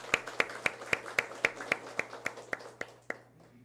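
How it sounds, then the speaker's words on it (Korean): A church congregation claps steadily, a quick even rhythm of about a dozen claps that thin out and fade at the end. "우리 하나님께 영광의 박수 올려드리겠습니다."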